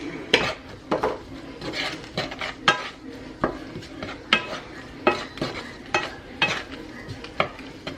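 Onions and garlic salted and stirred in a pan, a utensil scraping and tapping in a repeated rhythm of sharp strokes over a soft cooking sizzle.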